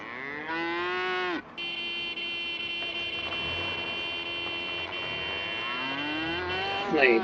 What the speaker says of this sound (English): Different looking cattle than we have here.